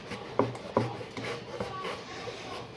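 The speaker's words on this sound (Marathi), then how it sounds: "तर अशा पद्धतीने चाकूने मी याला कट करून घेते" A knife cuts hard raw papaya into small pieces, giving a few distinct close chopping knocks followed by quieter scraping and rubbing strokes on the board.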